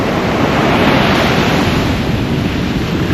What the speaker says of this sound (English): It's pretty windy, I'm not too sure how good the audio will be